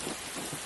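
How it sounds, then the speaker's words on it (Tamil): Steady rain falls in an even, dense hiss with no breaks, fairly loud and continuous throughout. "மழை பிறந்தது."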